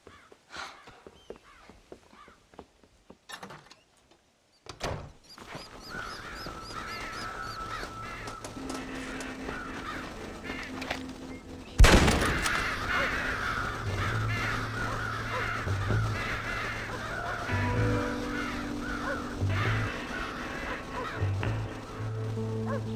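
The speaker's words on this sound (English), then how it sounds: "Dumb birds!" Crows caw in the cornfield in Red Dead Redemption after some sparse knocks and rustling, with a harsh burst of repeated calls and flapping that continue over a steady low hum, no voices.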